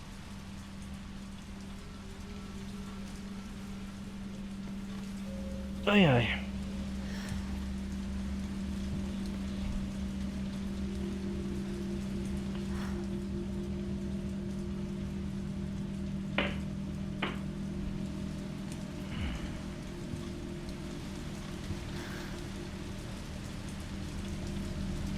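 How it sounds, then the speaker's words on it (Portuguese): Steady rain falls outside an apartment in Raccoon City in Resident Evil 3 Remake, a soft continuous hiss under a low hum, broken once by a rising sweep and a few faint clicks, and a brief exclamation is spoken. "tá chovendo, parece lá fora"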